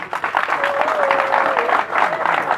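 Applause from an audience at a Bamileke community convention donation ceremony for a hospital, steady clapping filling the room for a few seconds, with a whistle-like tone sliding through the middle.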